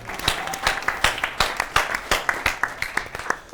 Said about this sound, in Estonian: Aplaus ka Johannes Vaherile